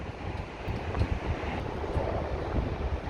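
Wind blows across a warm, sunny hotel pool area in Dubai, a steady, blustery roar buffeting the microphone throughout with no talking.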